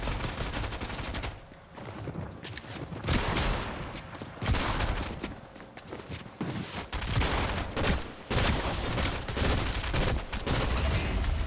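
Rapid bursts of gunfire from a three-round burst weapon in the video game Fortnite, loud and dense, repeating in quick clusters with brief gaps throughout.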